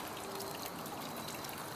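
Water trickles steadily from a hose hidden in a cheap homemade Halloween animatronic prop with a rotting torso, a soft continuous dribble and hiss heard alone at low volume.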